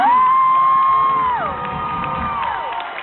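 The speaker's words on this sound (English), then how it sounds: "Give her a round of applause." Concert audience at a show cheering and whooping loudly, with a high sustained shout over dense crowd noise that eases slightly after the first second and a half.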